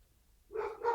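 A dog gives a short, close bark and then a second quick one after a near-silent start, brief sounds heard indoors at home.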